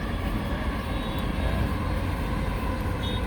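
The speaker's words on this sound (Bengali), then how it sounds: "এই দেখতে পাচ্ছেন মেট্রো রেল যাচ্ছে" A metro rail train passing close by, a loud continuous rumbling roar with steady broadband noise and no talking.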